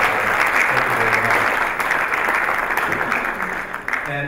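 Conference audience at a security event applauding, a dense sustained wash of clapping that stays loud and steady before easing slightly toward the end, with no talk over it.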